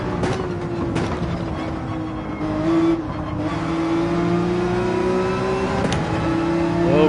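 A race car engine in Gran Turismo 7 revs and accelerates, its tone climbing steadily as the throttle opens early out of a corner, loud and close with brief shift dips.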